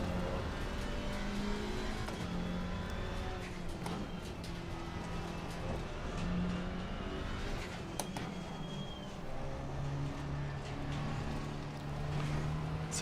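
A GT4 race car engine accelerating in Assetto Corsa Competizione sounds as a steady, moderately loud drone that rises in pitch through the gears, with another car audible alongside and no talking.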